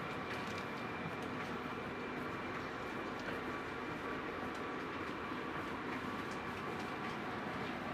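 A passenger train, the KA Pasundan on the Tasikmalaya to Kiaracondong line in Indonesia, rolls steadily along the rails with a continuous rumble and faint rhythmic clicking, heard from inside the carriage.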